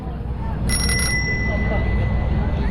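A bicycle bell rings once in a bright, shimmering burst that fades slowly, during a ride through Rumeli Hisarı and Bebek along the Istanbul waterfront, with talk and road noise around it.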